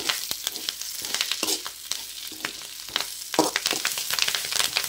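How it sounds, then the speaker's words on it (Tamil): Curry leaves dry roasting in a hot pan with no oil, giving steady crackling and scraping from stirring, with sharp pops scattered through, close and moderately loud with no talking. "பாருங்கள் எவ்வளோ அழகாக பொரிஞ்சு வருதுன்னு"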